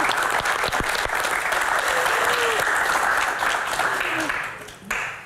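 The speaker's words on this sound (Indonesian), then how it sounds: "Tepuk tangan lebih meriah untuk Kang Maman" An audience at a Q&A show about a boxer's mother bursts into sustained, dense applause that fills the room, holds steady for several seconds, then tapers near the end with a voice briefly emerging.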